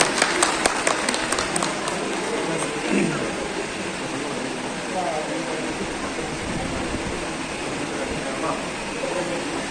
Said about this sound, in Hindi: ताली बजाकर उनका स्वागत करें।